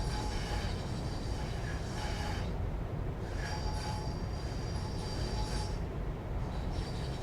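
A Class 350 electric multiple unit in Train Sim World 5 runs steadily with a continuous rail rumble and wheel noise, while faint high squealing from the wheels and brakes rises and fades as it slows.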